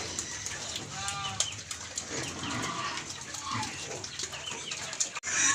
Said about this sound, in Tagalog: ito tayo natin ipakain sa ating mga alagang manok na native